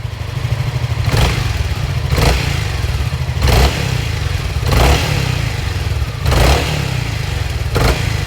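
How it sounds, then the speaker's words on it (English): Honda ADV 350 scooter engine idling steadily close by, blipped with about five short throttle revs at irregular intervals, each swelling then falling back to idle; no talking. "the first one is the ADV"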